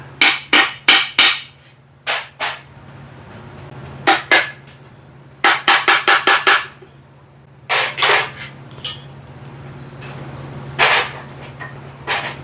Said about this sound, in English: This sump is really fighting and coming off there.